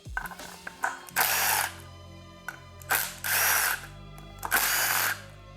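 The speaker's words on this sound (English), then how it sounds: "now we can remove the 3 bolts that hold down the stator itself" Power tool bursts remove the stator bolts on a Suzuki DRZ400 engine case: three loud, sustained whirring runs of a couple of seconds each, close up, separated by short pauses and small metallic clicks.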